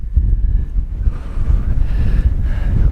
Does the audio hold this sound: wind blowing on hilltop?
yes